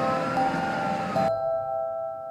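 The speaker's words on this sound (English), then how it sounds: "Ambulance." An ambulance siren gives a sustained wailing tone at close range, heard alone for a couple of seconds before cutting to a steadier, cleaner pitch.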